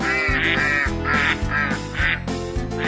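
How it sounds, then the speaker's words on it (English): Ducks quack loudly and close by, a rapid series of about six or seven nasal quacks in quick succession, filling the whole moment with no talking. "after Bob gets the ducks out of his living room"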